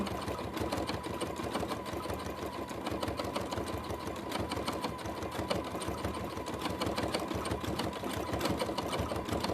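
A sewing machine stitching a horse collage quilt runs steadily and fast, its rapid needle rhythm continuous and close throughout with no talking.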